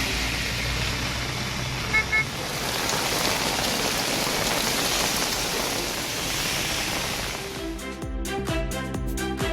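Heavy rain pours steadily in a broad, dense hiss around Namakkal while a vehicle horn briefly toots; near the end, a faint musical tone enters over the downpour.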